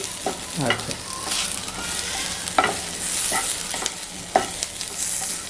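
Onion, coconut and tomato masala is sautéed over a low flame for a jackfruit curry, a soft, steady sizzle broken by occasional spoon scrapes and clinks against the pan, heard up close without speech.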